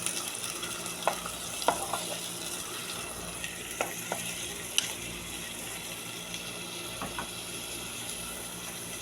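Chopped onions frying in cooking oil in a kadai, a continuous sizzle with scattered scraping and stirring clicks of a utensil against the pan, close and alone without speech.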